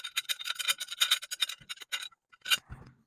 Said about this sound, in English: There's no fun way to undo a giant C-clamp.